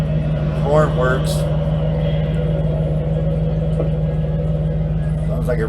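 A 1987 Chevrolet Camaro IROC-Z28 engine idles with a steady, even low rumble close by, while a person talks briefly over it.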